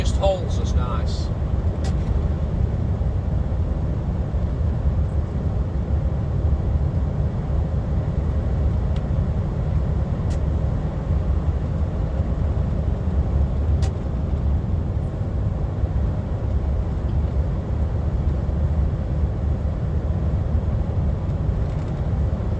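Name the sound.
DAF XF truck exhaust brake while rolling downhill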